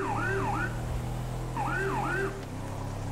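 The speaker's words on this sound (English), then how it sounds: "siren is called a Wheeling Syncom Sapphire Howler" A Wheeling Syncom Sapphire Howler police siren wails in GTA 5 with the LSPDFR mod, two rising-and-falling sweeps over a low engine drone, near and loud.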